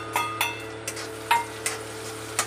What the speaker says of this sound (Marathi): टमाटर पण मस्त आपण परतून घेणार आहोत.